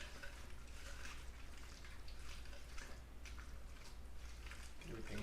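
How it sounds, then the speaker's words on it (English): Sloppy joe mixture being stirred in a crock pot, giving soft, wet squishing and scraping sounds over a steady low hum, close and moderately quiet. "you're going to take the crock pot and just kind of stir that all up"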